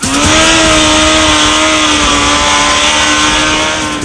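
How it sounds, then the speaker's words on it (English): A Suzuki Hayabusa motorcycle at speed on the Willow Springs racetrack in Southern California, its engine holding a loud, steady high-revving drone close to the listener throughout, with no voices. "Suzuki racer Rad Greaves shows us how he rides the Hayabusa"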